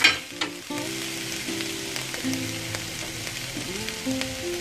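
Tomato goes into a hot pan for chipotle chicken and sizzles and fries steadily close by. A loud initial crackle opens the sequence, followed by ongoing stirring and scraping and a faint tonal hum in the background.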